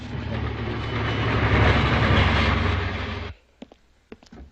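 Express train running on rails, a loud continuous rumble with rhythmic clatter that cuts off abruptly, leaving a few faint clicks and knocks.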